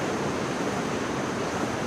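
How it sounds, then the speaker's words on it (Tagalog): Strong ocean waves break on the beach at Barangay Dibut, San Luis, Aurora, a continuous loud surf roar that fills the whole stretch with no pauses. "Medyo malalakas yung alon ngayon."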